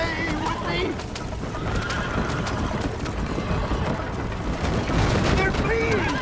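A horse in Red Dead Redemption lets out a loud whinny over galloping clip-clop hooves, with distant gunfire and voices talking throughout.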